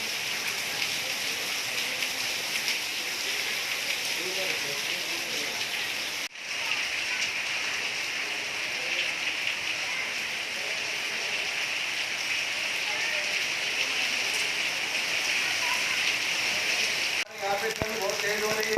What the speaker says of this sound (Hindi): शाम को हुई झमाझम बारिश से लोगों को परेशानी हुई।